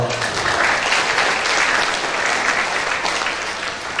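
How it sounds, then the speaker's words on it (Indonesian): Steady, dense applause from a seated audience at a Buddhist dharma talk on success in dharma and career, loud and continuous for the whole stretch with no voices over it. "Tepuk tangan dulu dong."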